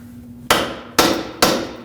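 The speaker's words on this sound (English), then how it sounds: "then just use a hammer to at least make sure that it will break free" Three sharp, loud metal hammer blows land on a lower control arm bolt nut of a 2006-2015 Lexus IS250 to break it free, spaced roughly half a second apart, each ringing briefly before decaying.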